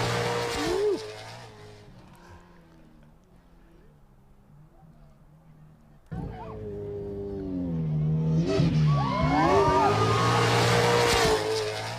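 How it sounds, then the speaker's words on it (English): A SCORE Baja 500 trophy truck engine roars past in the desert, fading to a distant drone, then swelling again into a loud, close, rising and falling race-engine howl with shifting pitch. "The sound of his engine."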